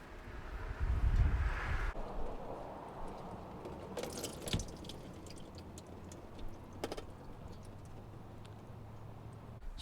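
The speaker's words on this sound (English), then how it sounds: "the cartridge was inside, still draining some oil" Motor oil drips from the removed oil filter cartridge and housing of a 2010 Toyota Camry, giving soft, scattered drip and tick sounds at close range over a quiet background, with a louder handling noise near the start.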